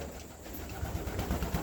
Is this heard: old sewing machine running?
no